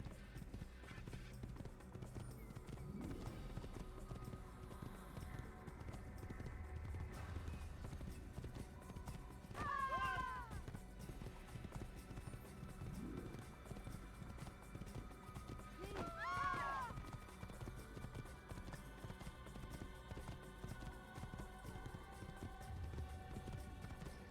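Horse hooves clip-clop steadily at a run in the video game Assassin's Creed during a PC speedrun, with occasional whinnies and someone talking over the rhythmic gait.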